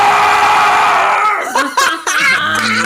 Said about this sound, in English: That was a very good scream.